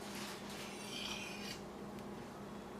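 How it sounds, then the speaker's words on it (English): A knife edge rasps steadily along a honing rod in a series of close, continuous scraping strokes, quiet and even throughout with no talking. "we're going to listen to this as we cut. We're going to pretend that we're cutting right into our rod"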